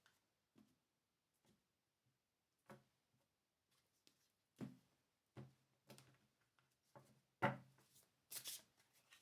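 Tarot cards are shuffled and cut by hand, giving a sparse series of soft, close riffles and taps that grow louder and more frequent toward the end, with no talking.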